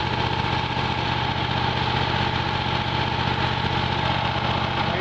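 A Miller Legend 302 welder generator's engine idles steadily at 1800 RPM, a constant loud drone with a low hum that holds unchanged throughout, with no voices over it.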